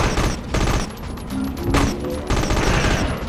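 Rapid gunfire from an infinite-ammo pistol in the Dredd Vs. Death video game, loud, dense bursts of shots with brief pauses between volleys.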